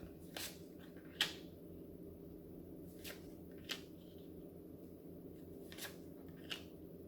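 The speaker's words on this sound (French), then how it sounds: "Je vais tirer 4 cartes." Four or five tarot cards drawn from a deck, each a brief soft swish and snap, spaced a second or two apart over a quiet room hum, close and faint, no talk.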